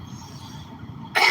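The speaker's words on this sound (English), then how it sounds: "And I'm coughing all over you." A low murmur of background noise, then one sudden loud cough bursts out close by near the end.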